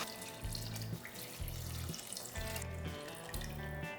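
Water runs in bursts from a tap into a cooking pot for rice with coconut milk, splashing and gurgling close by in four short pours, fairly quiet, with no talking.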